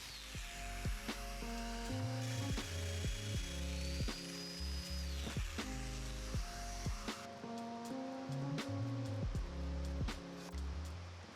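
A Domino joiner cutting mortises for floating tenons in mitered desk parts, with repeated short bursts of high motor whine and cutter buzz, each starting and stopping in a steady rhythm, close by.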